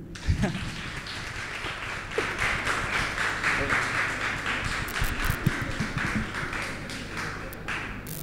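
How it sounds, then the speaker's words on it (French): An audience bursts into sustained applause, many hands clapping in a dense, even patter with a few sharper claps standing out, loud and continuous throughout. "Applaudissez s'il vous plaît"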